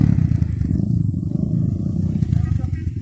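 A trail motorcycle revving hard as it climbs an extreme uphill track at an adventure trail event in Bengkulu, a loud rough engine drone with clattering, a voice talking over it.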